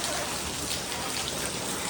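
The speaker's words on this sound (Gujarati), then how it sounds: "વરસાદ ચાલુ છે હવે" Rain pours down in a village, a dense, even hiss of drops striking surfaces that holds steady throughout, with no voices.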